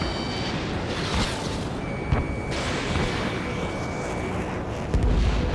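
Missile fire and explosions from the combat flight game Ace Combat 7 form a dense, continuous roar of jet and combat noise, with a steady tone midway and heavier blasts near the end.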